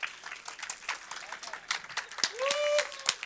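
An audience claps for volunteers at a stage event, a patter of applause that builds and swells toward the end, with a voice speaking over it.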